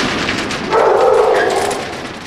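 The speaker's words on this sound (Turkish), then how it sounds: "Pitbull cinsi köpeklerden bir tanesi bakın burada." A pit bull gives a brief, close yelping whine that swells and then fades over a couple of seconds.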